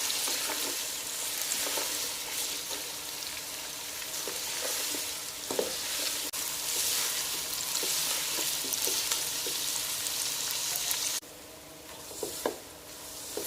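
Onions frying in a cup of oil in a deep pot for biryani, a continuous loud sizzle with scattered stirring clinks and scrapes, briefly dipping before resuming.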